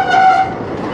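CSX locomotives moving an industrial freight train in the Sarnia rail yard sound a loud, close horn blast over low engine rumble, the horn fading after a half second while the rumble continues.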